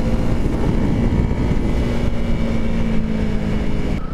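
A Honda CRF300L motorcycle ridden on a cold mountain trail in Romania, its engine a steady, loud drone mixed with wind rush throughout.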